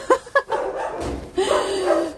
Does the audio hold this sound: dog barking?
yes